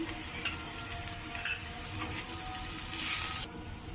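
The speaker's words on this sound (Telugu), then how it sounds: "తురుగు పెట్టుకున్న పచ్చి కొబ్బరి మూడు స్పూన్లు కొద్దిగా పచ్చివాసన పోయేదాకా వేగాలి" Grated fresh coconut with curry leaves and green chili fries in a pan, giving a soft, steady sizzle with a few sharper crackles and a scraping stir, fairly quiet and close, with no voices.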